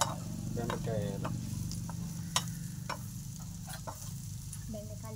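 Okra sizzling and frying in a pan, a steady close crackle with light stirring taps throughout.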